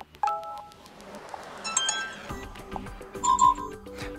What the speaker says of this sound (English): And here we have list of ringtones.